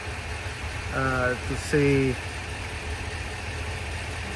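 A Ford 7.3 gasoline engine idles with a steady low hum, and someone speaks briefly over it.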